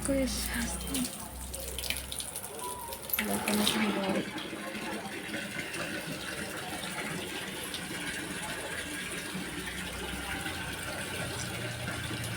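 Water gushes fast and steadily from a tap into a sink, a continuous rushing hiss, with a brief clatter early on and a faint voice in the background.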